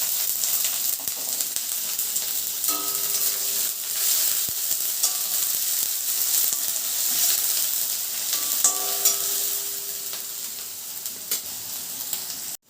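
Onion and garlic fry in a pan for Schezwan fried rice, giving a constant close sizzle with crackle and occasional stirring scrapes and clinks over about twelve seconds.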